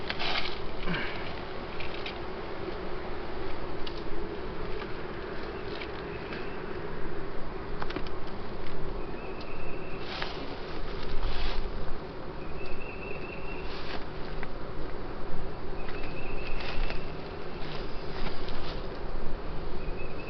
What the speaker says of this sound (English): Smoke these bees back down.